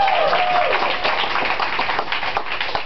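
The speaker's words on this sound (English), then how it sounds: "Give yourself a round of applause." First-year dental students at Baylor applaud themselves, a brief burst of mixed clapping and light cheering in a room, close and fairly loud.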